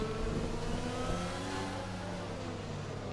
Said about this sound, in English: Gee, the McLaren sounds really nice.